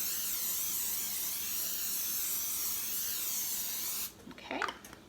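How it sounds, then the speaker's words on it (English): A can of cooking spray hisses in one long, steady burst for about four seconds while greasing a baking pan, followed by a few faint clinks and handling sounds. "I always just grease and use my spray."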